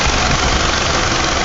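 A 2006 Nissan Altima sits idling, its engine giving a loud, steady, close-up rumble with constant vibration and no change in pace.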